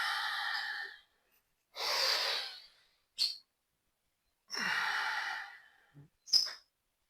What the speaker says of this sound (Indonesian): Ambil napas pelan-pelan.